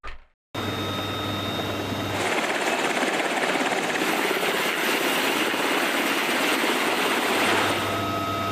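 Helicopter hovering, its engine and rotor roar a steady, loud, broadband wash that swells after a brief quiet start and holds without talk.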